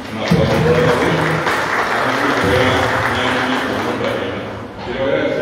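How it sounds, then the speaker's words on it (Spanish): Applause from an audience at a national congress on Guarani language and culture, steady clapping filling the room with some voices and murmurs mixed in. "Un aplauso para ella"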